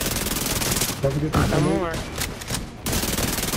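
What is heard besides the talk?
gunfire in the Division 2 video game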